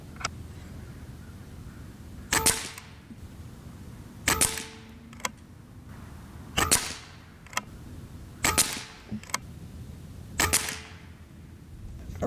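An Evanix AR6K PCP air rifle firing 15.89 grain JSB Reds pellets gives six sharp, close cracks spaced about two seconds apart, each followed by a faint metallic tick, over quiet background hiss.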